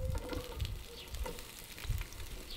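Chopped onions frying gently in a pan, a low steady sizzle with soft crackles and occasional stirring scrapes, heard close and alone without talk.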